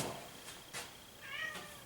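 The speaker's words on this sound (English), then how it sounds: "Well, Miss Barn Cat has entered the studio." A barn cat meows inside a painting studio, one faint, short, rising call standing alone in quiet room tone.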